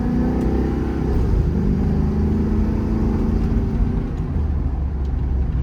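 A 2021 Ford F600 4x4 with a gasoline 7.3 V8 accelerates nearby, its engine note rising and holding steady as a loud, continuous low rumble with no talking.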